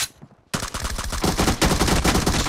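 Rapid automatic gunfire in a team deathmatch video game: after a brief quiet start, a dense, loud, continuous burst of machine-gun shots fills the rest of the moment without pause.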